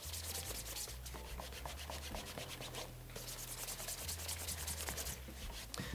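Chamois cloth buffing a leather dress shoe, a quick rhythmic rubbing and swishing that repeats steadily and close up, with a low hum underneath and no talking.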